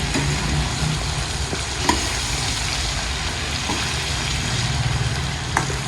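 Green chillies fry in oil in an uncovered pan for pickle, giving a steady close sizzle with occasional soft knocks of a stirring utensil and no talk.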